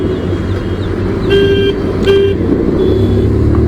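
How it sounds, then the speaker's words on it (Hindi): Road traffic rumbles steadily on a ride out of Srinagar while car horns toot in several short, close honks over the continuous engine drone. "मतलब हर तरफ वही शोरगुल भी है और चींची पोंपों भी सुन रही है।"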